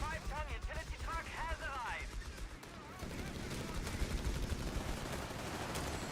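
Volleys of rifle fire ring out in a Company of Heroes 3 World War II battle, riflemen and Grenadiers trading bursts of gunshots amid continuous battle noise, with a commentator talking over the action throughout.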